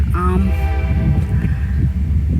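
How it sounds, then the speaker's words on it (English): A low rumbling train passes close by, with a brief horn-like tone near the start over a steady rolling noise. "as I continue my walk, noisy train."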